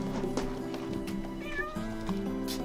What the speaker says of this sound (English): Oh, the cat's going in the pool.